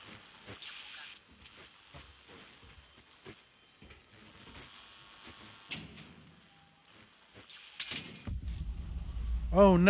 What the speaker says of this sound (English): Oh no, someone dropped a glass bottle.